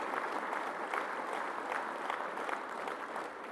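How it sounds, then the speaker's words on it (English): A large room at the Greg Norman Medal awards night fills with a steady, dense round of applause from a sizeable audience, with no talking over it. "Would you all wish them both well with a round of applause?"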